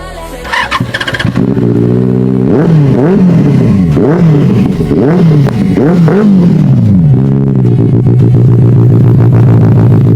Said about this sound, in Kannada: 600cc ಬೈಕ್ ಅಲ್ಲಿ ಈ ಗಾಡಿಲಿ ಬರೋ ಸೌಂಡ್ ಬೇರೆ ಯಾವ ಗಾಡಿಲಿ ಬರಲ್ಲ ಗುರು